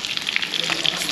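Food sizzles and crackles steadily in a hot frying pan, a dense, continuous spatter with brief pops, close and fairly loud, with no voices over it.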